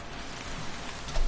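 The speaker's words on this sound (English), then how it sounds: "the rain sound is so beautiful in my headset" Steady rain falling in the dinosaur park game Jurassic World Evolution, a dense, even hiss of rainfall throughout with a slight swell at the end and no talking.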